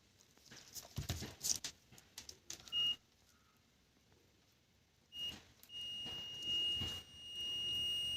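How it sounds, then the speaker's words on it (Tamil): A clamp meter's continuity buzzer beeps in several short, steady high tones, a few brief chirps and then longer sustained buzzes, with handling clicks in between. "உங்களுக்கு அந்த பஸ்ஸர் சவுண்டு வர்றது கேட்குன்னு நினைக்கிறேன்"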